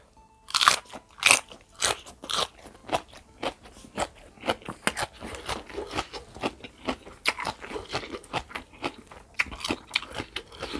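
Crispy fried noodles and crunchy vegetables with Luang Prabang-style papaya salad and fresh shrimp crackle in a steady run of loud, close bites and chews that repeat without a break.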